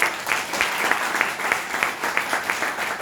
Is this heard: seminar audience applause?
yes